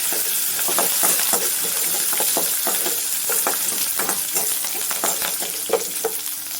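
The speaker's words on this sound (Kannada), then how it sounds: "ಈಗ ಹಸಿಮೆಣಸೆಲ್ಲ ಫ್ರೈ ಆಗಿದೆ" Green chillies, garlic and curry leaves frying in hot oil with browned chana dal for mango chitranna, a steady loud sizzle with spoon stirring and scraping throughout, no talking.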